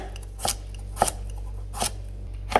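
A knife chops cucumber into small pieces on a board, four crisp, evenly spaced thuds close to the microphone over a low background hum.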